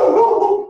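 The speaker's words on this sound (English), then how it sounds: "Those are my dogs." Dog howling or barking: a single loud, drawn-out tonal call close to the listener that fades over less than a second.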